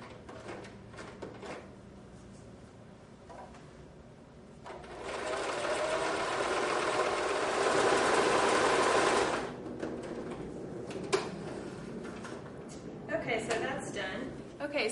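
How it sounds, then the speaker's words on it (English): A sewing machine stitches the two ends of a renaissance-style skirt's fabric together along its full length, a steady loud whir running for several seconds mid-clip amid quieter handling sounds, with faint speech in the background. "we're just going to start up at the top and sew the whole length of the fabric"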